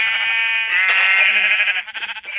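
A few close, loud Minecraft sheep bleats in quick succession, wavering and nasal, sounding clean and slightly synthetic.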